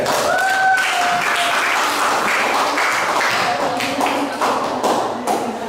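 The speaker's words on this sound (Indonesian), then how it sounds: "Beri tepuk tangan yang meriah lagi sekali untuk mereka." An audience at a Catholic teacher-training college event in Merauke claps loudly and steadily, sustained applause filling the room with a few faint tones underneath.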